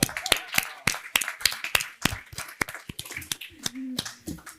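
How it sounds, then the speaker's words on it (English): Scattered hand clapping from a conference audience, sharp separate claps in an irregular rhythm rather than full applause, mixed with voices speaking nearby. "I want a big clap for Kadi and for Dimitris"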